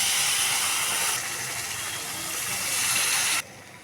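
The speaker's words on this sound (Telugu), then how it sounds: "ఇప్పుడు వాటర్ పోసేసుకున్నాను" Water goes into roasted semolina in a hot pan and sets off a loud, broad rush of steam and hiss that holds for about three seconds, then cuts off sharply.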